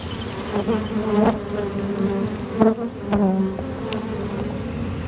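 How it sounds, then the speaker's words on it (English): Honey bees buzz steadily around open beehive frames during a transfer, a dense close hum with occasional louder individual bees passing near, no talk. "So we're going to transfer these now. Just keep eye out for the queen, Andy."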